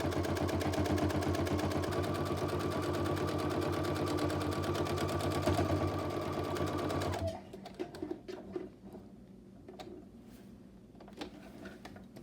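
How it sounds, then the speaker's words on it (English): Sewing machine stitching a bag in a rapid steady whir for about seven seconds, then stopping, followed by scattered small clicks and handling noises. "We are just going to come along here and sew this."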